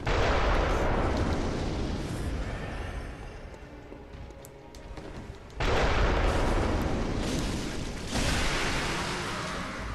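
In a Bloodborne chalice dungeon, an enemy fires into the floor close by, setting off heavy, loud blasts and rumbling impacts that dominate the scene, with a brief lull between two big bursts.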